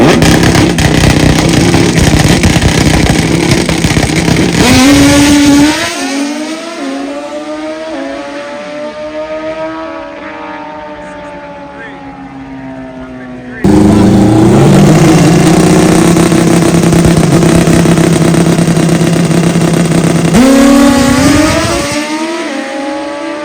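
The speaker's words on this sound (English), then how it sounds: "Another turbo bike." A turbo motorcycle at a bike fest revs hard and accelerates away, its loud rising engine scream climbing and fading into the distance before another loud pass of revving.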